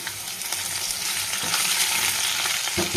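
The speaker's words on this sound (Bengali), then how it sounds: "আর এই যে আলু ভাজা বসিয়ে দিয়েছি মাছের ঝোলের" Potatoes frying in a pan as the first step of a Bengali fish curry give a loud, steady, close sizzle that continues unbroken for the full three seconds, with no voices over it.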